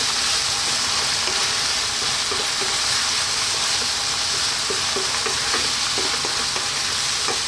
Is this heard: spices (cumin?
yes